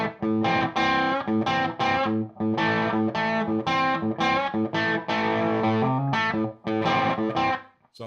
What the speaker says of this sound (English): let's check out the distortion channel now